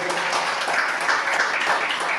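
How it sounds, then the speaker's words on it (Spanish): A church congregation at a Spanish-language Sunday morning service gives a loud round of applause, a continuous, even roar of many hands clapping. "denle un fuerte aplauso a Dios"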